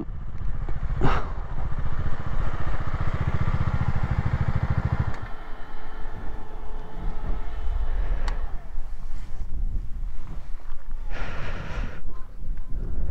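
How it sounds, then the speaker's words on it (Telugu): A Bajaj Dominar 250 motorcycle engine runs with a steady, loud, close rumble, then its sound changes and drops back as the bike pulls up to park by a roadside lake. "కొద్దిసేపు బైక్ ఇక్కడ పార్క్ చేసేద్దాం."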